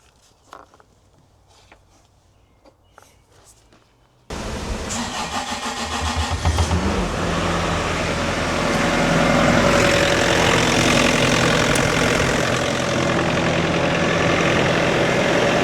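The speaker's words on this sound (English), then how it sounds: "we'll see what happens when we start the machine and run it" A Bobcat excavator engine cranks and starts after a few seconds of quiet, then settles into a loud steady run; the A/C compressor kicking on adds a slight rise in the drone partway through.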